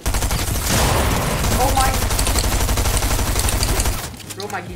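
Sustained SMG fire in the Fortnite video game, a loud, dense rapid burst of shots that continues for about four seconds before dropping to quieter clatter.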